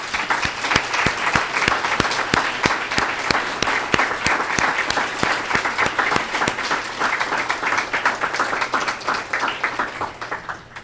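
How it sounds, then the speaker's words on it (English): Luncheon guests at an annual benefactor event give a warm round of applause, a dense crowd clapping with distinct sharp individual claps standing out, sustained and fairly close for about ten seconds. "if we could just all give them a round of applause"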